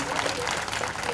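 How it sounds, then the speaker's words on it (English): An audience applauds at a celebrity-attended tennis league inauguration, a brief, dense burst of clapping held at steady loudness with a voice audible over it. "Big round of applause for Sonali Bendre."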